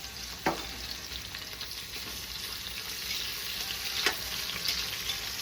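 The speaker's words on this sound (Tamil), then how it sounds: "அதை குக்கரில் போட்டு எடுத்து தாளிப்போம்." Two chopped large onions sizzle steadily as they fry in a pressure cooker, a soft continuous hiss with a few sharp clinks of a utensil stirring, no talking.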